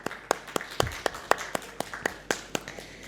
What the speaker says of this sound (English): Let's give a round of applause one more time.